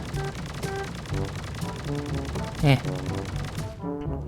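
In the Sausage Man video game a charge machine gun fires, with rapid mechanical rattling bursts and a sharper report near the middle before the sound cuts off at the end. Mostly loud and close.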